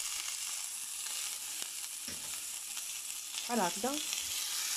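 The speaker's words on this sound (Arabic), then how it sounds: "انا شلت على المقله ديالي تسخنات، غادي نديروا عليها واحد بصله كبيره" Chopped large onion frying in table oil in a hot pan for shakshuka, a soft steady hiss close by, with a brief voice speaking near the end.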